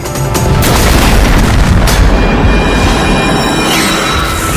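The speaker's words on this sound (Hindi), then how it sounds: "धमाका।" A loud, heavy explosion with a sustained roaring rumble that fills the whole clip, close and powerful.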